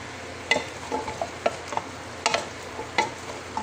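Potatoes and sliced hotdog being sautéed in a pan, with a spatula scraping and stirring in scattered strokes over a faint, steady sizzle; close and fairly quiet, no talking.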